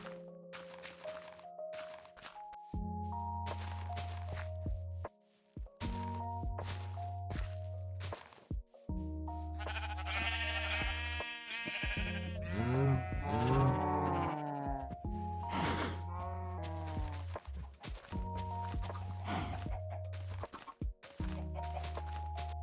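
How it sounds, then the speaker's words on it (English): Minecraft sheep bleat repeatedly in a series of short, wavering calls, mixed with blocky thunks and footstep-like taps from gameplay, all fairly close and steady over a low background tone. "Get some cows and sheep in there"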